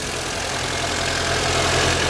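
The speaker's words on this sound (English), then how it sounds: "just let it idle" A Mini Cooper engine idles with a steady, even mechanical hum and faint ticking, close and constant with no revving.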